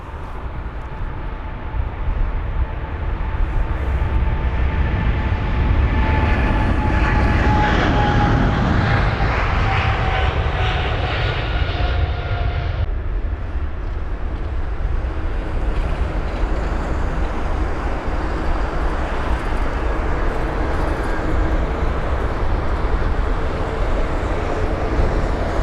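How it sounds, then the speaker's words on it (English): A British Airways Boeing 777 taking off at London Heathrow: a loud, steady jet engine roar that builds and then drops to a lower, broader rumble partway through as the aircraft climbs away. "on the move now is the British Airways 777."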